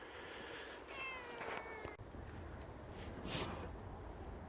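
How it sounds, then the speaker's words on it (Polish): A female cat caught in a live trap meows in a couple of clear, close calls over steady outdoor background noise, with no talking. "Drugi raz ta sama kotka wpadła."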